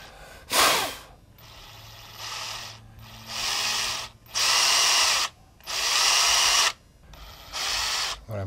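A power drill spinning fly-tying material runs in repeated bursts, whirring loudly for a second or so at a time and then stopping, with short quiet gaps between runs.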